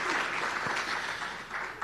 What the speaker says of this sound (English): So just give yourselves an applause.